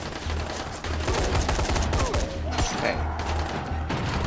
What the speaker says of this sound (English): Said I got a machine gun this time.